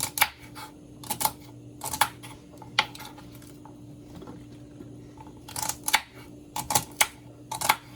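Celery being cut with a knife on a cutting board for goat feet soup, crisp close chopping strokes in short quick bursts separated by pauses, over a faint low hum.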